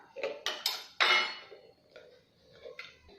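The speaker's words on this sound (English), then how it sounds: "Squeeze it with short manual juicer." Manual orange juicing on a short hand juicer, heard as a few sharp clinks and scrapes of the tool and dish, close and fairly quiet, with brief bursts separated by pauses.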